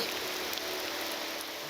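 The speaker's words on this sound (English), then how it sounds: "Rain. You hear the cold coming on already. Lovely downpour." Steady rain downpour in the game Morrowind, a continuous dense hiss of drops drumming on surfaces, even and unbroken throughout with no talk over it.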